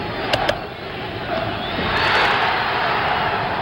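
Boxing crowd at the 1977 George Foreman versus Jimmy Young fight swells into a broad, distant roar of voices, a chant for Jimmy Young rising under the arena noise.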